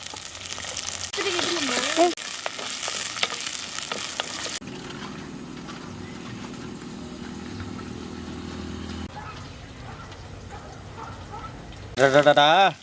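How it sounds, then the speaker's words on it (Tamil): Oil sizzles and crackles steadily as garlic and shallots sauté in a pan, with a voice talking over parts of it and clattering near the end. "இந்த வெள்ளைப்பூடு சின்ன வெங்காயம் வதங்கும் போது"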